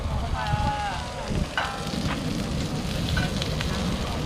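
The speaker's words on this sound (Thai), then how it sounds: "ผัดกระทะร้อนแบบนี้ก็น่ากินนะครับ" Steady sizzling and crackling of food stir-fried in a hot pan, with scraping stirs and faint voices and outdoor bustle in the background at Dong Tan Beach.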